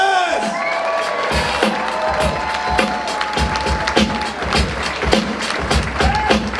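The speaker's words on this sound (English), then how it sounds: "nice round of applause for Jason Ellis!" A comedy club crowd cheers and claps loudly and continuously, with whoops rising above the steady wash of applause.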